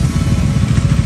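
Motorcycle engines on a group anniversary celebration ride of about seventy bikes, a loud close low rumble with a rapid throbbing pulse over a brief moment.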